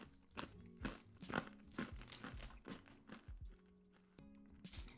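Small crunchy chocolate balls from a Japanese snack box are chewed close up, giving a quick series of sharp crisp crunches and crackles with brief pauses between bites, quiet overall.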